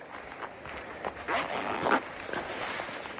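A few quick pulls of a zipper on the shoulder strap of a Black Diamond Beta Light 45 backpack at close range, short rasping strokes against soft fabric rustle, with faint background noise and no clear talk.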